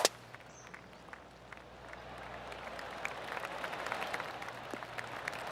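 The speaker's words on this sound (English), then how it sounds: "Oh, golf clap." A sharp crack, then soft, scattered golf clap from a small crowd in the video game PGA Tour 2K25, distant and polite, building gently and continuing steadily.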